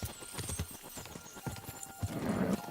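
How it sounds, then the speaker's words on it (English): A horse galloping in Kingdom Come: Deliverance II, hooves clopping in a quick irregular rhythm over ambient game sound, with a brief whinny and a faint voice or two underneath. "This horse is too slow"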